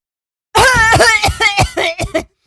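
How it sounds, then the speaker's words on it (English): A burst of harsh, choking coughs, several in quick succession, loud and close, trailing off into a few sputtering hacks. "I just have to like choke and cough so out of nowhere"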